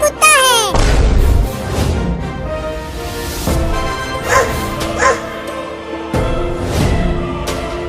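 Loud, close dog barking and yipping in repeated bursts in a Hindi cartoon, mixed with cartoonish sound effects and some voices over busy background music.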